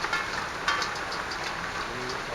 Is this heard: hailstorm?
yes